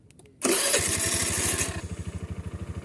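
A motorcycle engine started by remote, with a short cranking whir that catches into a loud revving roar, then settles into a steady, close, rhythmic idle putter.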